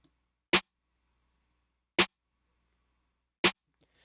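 A snare drum processed with a transient shaper hits three times, evenly spaced about a second and a half apart, each a sharp, punchy crack with short sustain, set against near silence.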